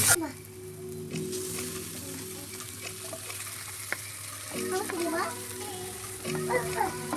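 Fish fingers fry in a pan of oil with ghee, giving a steady close sizzle with occasional stirring scrapes, while a voice is heard faintly at moments in the background.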